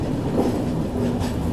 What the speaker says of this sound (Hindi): आज अपनी ट्रेन में लगा हुआ है WAP-7 लोकोमोटिव कानपुर शेड का।